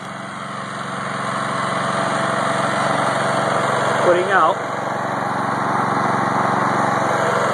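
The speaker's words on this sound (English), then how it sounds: "You got that little engine and that little alternator" A small engine driving a little alternator in a home-built generator runs steadily under load, a loud continuous drone. Someone talks over it.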